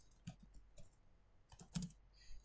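Quick bursts of computer keyboard keystrokes clatter in short irregular clusters, close and fairly quiet, with brief pauses between runs.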